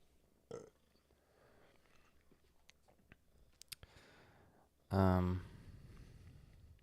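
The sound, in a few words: burp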